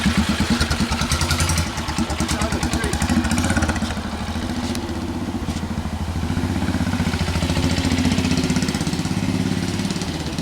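A Whizzer motorbike engine runs steadily and fairly quietly, with a fast, even putter that dips briefly early on and then holds at a constant nearby level.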